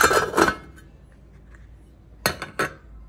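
A metal lid set onto a cooking pot of grilled chicken with green chili peppers, a couple of bright clinks and clatters at the start, then quiet before two more sharp metallic knocks near the end.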